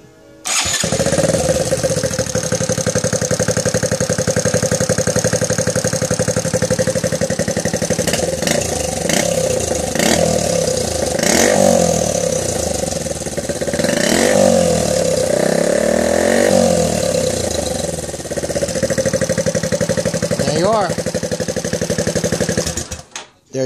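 A turbocharged Honda Grom motorcycle starts and runs close by, a loud buzzing idle rising into several sharp revs with turbo whine, then cutting off near the end.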